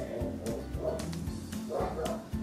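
A dog barks and yips in quick repeated bursts close by, loud and insistent, with a few whimpering notes between barks and a little background noise.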